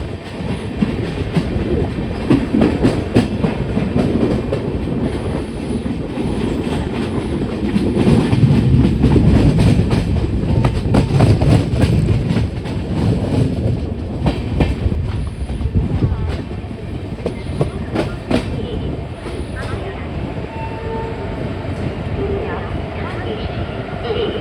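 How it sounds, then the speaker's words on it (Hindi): Steady rumble and clatter of the Sevagram SF Express rolling on rails during a monsoon run from Nagpur to Mumbai via Badnera, loud and continuous throughout, with faint voices in the carriage. "सेवाग्राम एक्सप्रेस में जर्नी करो"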